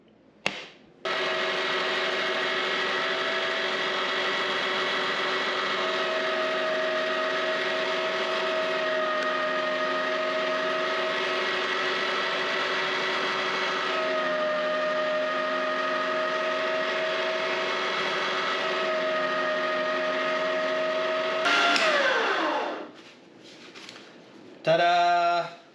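A meat grinder fitted with a fine plate grinds breakfast sausage, giving a steady, loud electric motor whine that holds for about twenty seconds, then shudders, drops in pitch and stops, with short clunks at the end.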